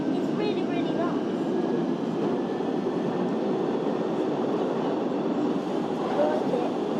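A Central Line underground train in the OpenBVE simulator starts up with a steady, moderate motor hum and rolling rumble that holds through the stretch, with talk over it.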